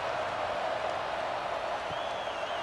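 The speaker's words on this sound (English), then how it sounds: "this crowd now ready to get behind them" A high school football crowd at Roman Catholic versus St Joseph's Prep, a steady broad roar of cheering spectators at an even level across the stands.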